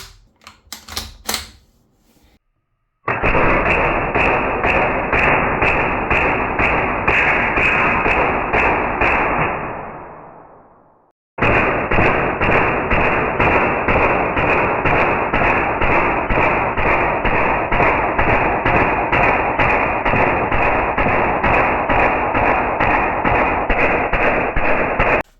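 Umarex AR-15 Strike Force automatic airgun emptying a full magazine: two long bursts of rapid, evenly spaced loud shots with a short pause between, no talking.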